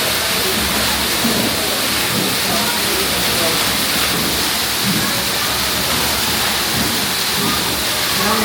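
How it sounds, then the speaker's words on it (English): A loud centrifugal pump lifts water up from below, giving a constant broad hissing, rushing roar that stays even and steady throughout. "Down there, there's a centrifugal pump. It's pretty loud."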